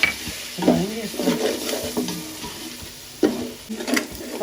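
Masala with garam masala and a splash of water frying in a pan for mutton paya (goat trotter) curry, a soft sizzle broken by a few close scrapes and clinks of a spoon stirring.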